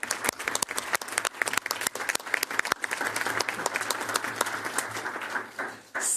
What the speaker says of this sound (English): can you join me in giving all of them a round of applause?